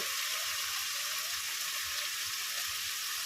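Yogurt hits a sautéed spice paste in a hot pan for cauliflower dum, and the oil sizzles as a steady, close, hissing crackle with no talk.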